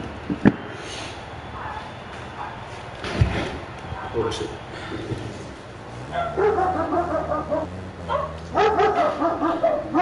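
A dog barks and yips repeatedly from a distance while people talk, with the barks clustering toward the end.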